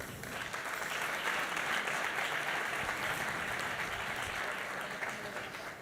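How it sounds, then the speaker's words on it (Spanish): Audience applause at the HRSI2023 event for Spanish-language podcaster Jesús Martínez Pardo, CEO of Eventelling: a dense, steady wash of many hands clapping together, rising quickly and holding at an even level for several seconds. "Un aplauso para él."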